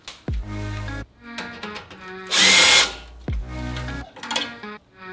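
A power tool spins off a 12 mm bolt holding a brake line bracket to the steering knuckle on a Toyota Tundra, with several short loud whirring bursts separated by pauses, close up and with no talking.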